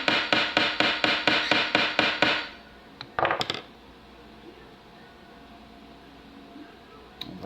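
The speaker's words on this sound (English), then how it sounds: "just a few taps on that pin." A small hammer taps a pin on a little metal block, used when servicing a knife blade: about ten quick, evenly spaced metallic taps, close and fairly loud, followed by a brief short flurry of clinks, then quiet room tone.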